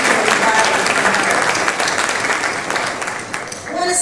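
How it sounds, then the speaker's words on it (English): Audience applause fills a hall at a newspaper's 50th anniversary celebration at the Carnegie, a steady dense wash of many hands clapping that holds for about four seconds before thinning slightly at the end. "give yourselves a round of applause for supporting us"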